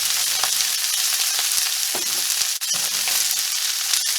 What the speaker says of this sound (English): the oil is hot. Let's start roasting this broccoli and the cauliflower